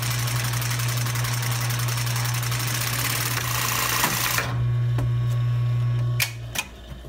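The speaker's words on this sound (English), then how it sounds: "I'm gonna turn my machine on and we'll watch this wind" Juki 241 industrial sewing machine winding a bobbin, a steady motor whir with a constant low hum and fine rapid mechanical ticking, which quiets midway while the hum continues, followed by a couple of sharp clicks near the end.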